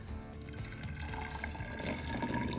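Warm milk poured into a thermos for almond milk chai, a short close liquid stream gurgling and filling steadily, moderately quiet and alone.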